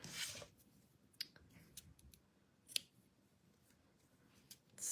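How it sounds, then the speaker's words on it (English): Scissors trimming the ends of a quarter-inch-wide ribbon on a tied bow for a handmade card, a few sharp snips spaced irregularly, close and quiet with no talk. "So once my bow is tied, I'm going to trim"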